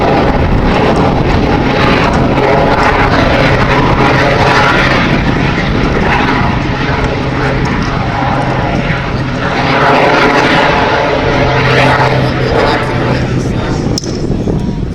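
Rich Goodwin's jet-powered Pitts aerobatic biplane roars through a high-speed pass at an air festival, a loud continuous engine rush mixed with wind buffeting the microphone, with a voice talking over it.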